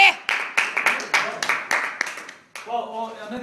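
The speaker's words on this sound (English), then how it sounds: "big round of applause for Amit and Matthew" A rehearsal group gives a round of applause, with quick, irregular hand claps near and fairly loud for a couple of seconds, then a voice begins as the clapping stops.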